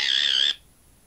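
A short electronic whistle-like chirp presented as dolphin speech, one bright wavering tone lasting about half a second, loud and close, then cut off into near silence.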